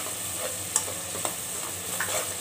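Masala for chicken tikka masala sautéed in a pan, a steady soft sizzle with a few light spoon scrapes and taps, close and alone without any talk.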